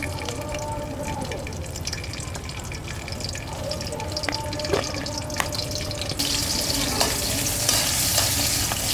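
Green chilies frying in oil for a vegetable dish, a continuous close sizzle with stirring scrapes and clatter, which grows brighter and louder near the end.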